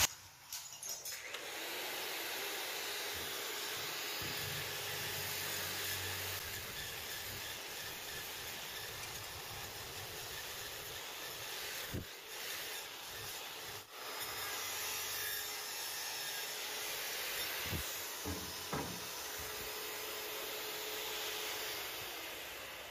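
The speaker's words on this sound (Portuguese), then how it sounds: "Aí agora eu vou passar uma lixa diamantada número 100." A polisher with a number 100 diamond sanding pad works over a marble-saw cut edge in stone, a steady, loud, close abrasive whirring grind that holds throughout with only slight dips in pressure.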